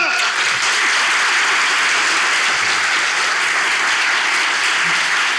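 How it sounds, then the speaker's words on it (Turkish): A Turkish talk-show studio audience breaks into loud, sustained applause, a thick continuous clapping that stays strong from start to finish. "Alkışlarla!"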